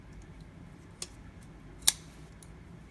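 The lock of a Spyderco Smock folding knife clicks as the blade closes: three sharp, isolated ticks spaced apart, the middle one loudest, against a quiet background.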